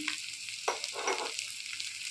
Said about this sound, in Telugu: ఒక గ్లాస్ నీళ్ళైతే పోస్తాను